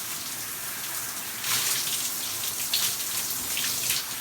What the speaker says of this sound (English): As you work your way up, rinse it all out.